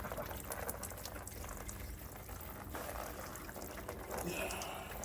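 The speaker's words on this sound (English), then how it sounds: "Whoa, this shower works mint." A working shower runs with a steady, rushing spray of water, a continuous broadband hiss with faint voice sounds mixed in.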